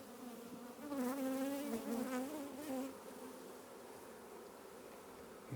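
Honey bees being gently handled around a hive buzz in a close, swarming drone that swells loudly for a couple of seconds and then settles into a softer, steady hum.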